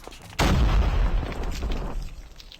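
M16 assault rifle fire in Call of Duty: Mobile, one sudden loud close blast at the start followed by a dense rattling burst that decays over about two seconds.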